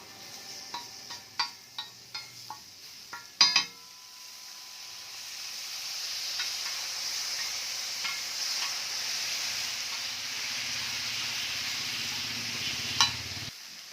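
Fish masala frying on a hot tawa with water splashed in: a few sharp clinks from stirring, then a sudden burst and a steady, close, loud sizzling hiss that keeps going.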